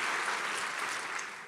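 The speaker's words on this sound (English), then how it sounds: "And a round of applause for them as well." Faint, brief applause from an audience at an annual charity luncheon, a soft wash of clapping that fades slightly toward the end.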